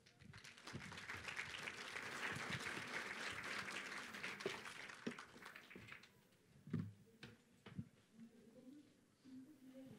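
Audience applause at an engineering lecture on set theory, a broad wash of clapping for several seconds that thins out and fades, leaving scattered claps and faint voices.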